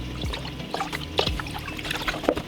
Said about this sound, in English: Okay, so I'm gonna add some vegetable stock.